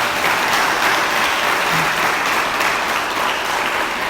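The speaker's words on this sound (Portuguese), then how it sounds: "Dê uma salva de palmas para Jesus." A church congregation bursts into loud, continuous applause, a dense roar of many hands clapping evenly for the full length without any voices.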